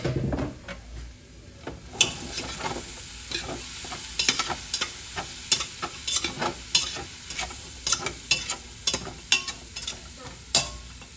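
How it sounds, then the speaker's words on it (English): Vegetables for chicken tikka masala saute in a pan over a soft constant sizzle, with a utensil scraping and tapping in a fairly regular rhythm, quiet and close, without talk. "I'm turning it down until they finish sauteing"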